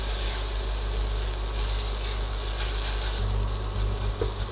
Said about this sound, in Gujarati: ડુંગળી શેકાઈ ગઈ છે.